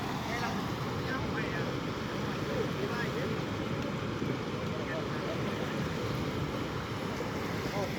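Steady, loud rushing of water pours continuously through an opened sluice gate, a dense broadband roar with no pauses.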